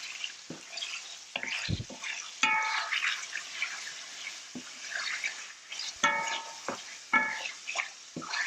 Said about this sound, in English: We just put it in the hot pan, give it a few stirs